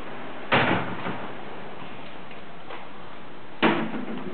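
A door in a hotel room in Puerto Morelos, Mexico, gives two sharp, close knocks or thuds about three seconds apart, over a quiet, steady room hum with no speech.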